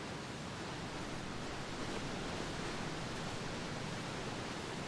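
A waterfall in Skyrim rushes as a steady, even wash of broadband water noise, moderately faint and constant, with no voices over it.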